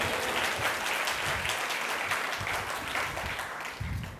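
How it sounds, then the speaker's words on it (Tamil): Church congregation clapping during a communion service, a lively, continuous patter of many hands at close range, fairly loud and sustained throughout with no voice standing out. "நல்லா கைத்தட்டி தான் ஆமேன்னு சொல்லுங்களேன்"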